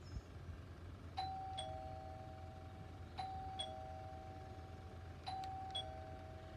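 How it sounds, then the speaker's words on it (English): Three two-tone doorbell ding-dong chimes ring out evenly spaced, each a bright high note falling to a lower sustained tone, over a low steady background hum with no talking, as part of a sound guessing game. "Did you guess it was a doorbell?"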